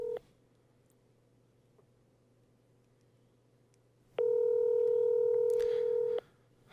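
A telephone ringback tone on an outgoing call: a long stretch of near silence, then a loud steady two-part tone that sounds for about two seconds before cutting off.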